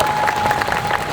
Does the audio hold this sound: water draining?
no